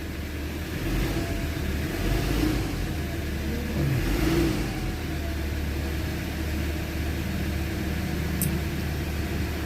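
A Ford Ranger engine idles in a steady, close, low rumble with a continuous even drone and no pauses.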